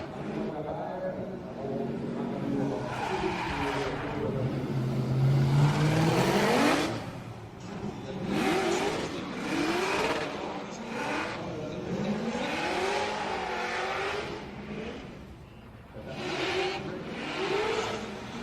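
Number 46 Formula Drift car on Hankook tires makes a recon run at a Montreal qualifying event, its engine revving and rising in pitch through gear changes, with a commentator talking over it throughout.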